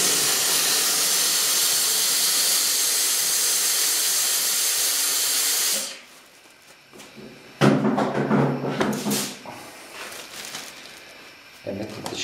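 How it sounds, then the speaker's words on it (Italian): Steam hisses loudly and steadily onto freezer bags for growing mushrooms on coffee grounds for about six seconds, then cuts off, followed by close plastic rustling and handling noises. "passateli anche loro col vapore"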